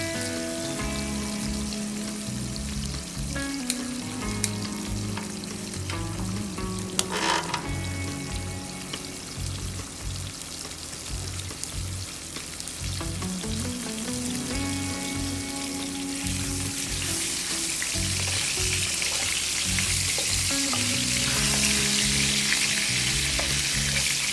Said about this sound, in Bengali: মাথাটা দিয়ে আমি খুব সুন্দর করে কষিয়ে নিচ্ছি